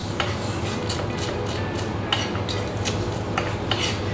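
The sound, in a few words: knife julienning spring onions on a board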